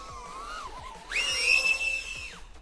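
An HGLRC Veyron30 3-inch cinewhoop FPV drone on a 4S 850 mAh battery whistles in flight with rising and falling high-pitched motor tones. The tone swells into a loud, sustained whine over a soft low pulsing.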